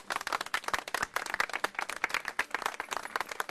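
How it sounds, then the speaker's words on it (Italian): A small group claps for two cooks at an outdoor food event in San Marzano di San Giuseppe, Salento, with dense, uneven hand claps close by, steady throughout and with no voices over them. "alle quali tutti fanno un applauso"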